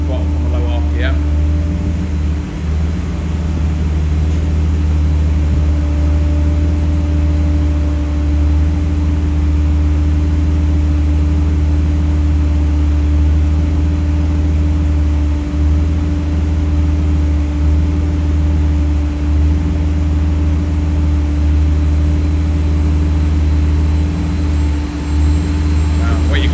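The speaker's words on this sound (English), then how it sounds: "get the car in fourth gear as soon as possible and then go full throttle from a low RPM" A BMW E30 325i engine at full throttle in fourth gear on a dyno gives a loud, steady roar at high revs throughout, with a deep constant drone and heavy low rumble.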